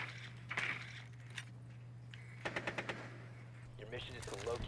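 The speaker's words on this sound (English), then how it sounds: "Why is there so much shooting going on?" Gunfire in the video game Rainbow Six Siege, heard as a few brief, fairly faint shots and a quick rapid burst over a steady low hum, with muffled in-game voices in places.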